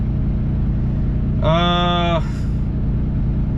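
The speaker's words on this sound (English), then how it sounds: "The truck I'm in right now is not a Volvo. It is a International. The LT Condo Cummins 12-speed automatic." Steady low rumbling drone inside the cab of an International LT truck with a Cummins engine and 12-speed automatic, loud and constant throughout, with a brief tonal chime or beep sounding over it midway.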